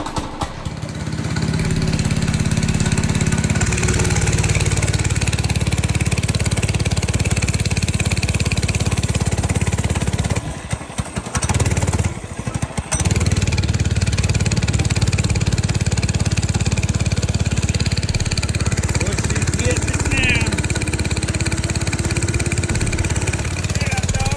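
A Monster Moto 80cc dirt bike engine idles outdoors in the cold with a steady, buzzing mid-pitched putter, briefly dipping once, while a person talks over it at times.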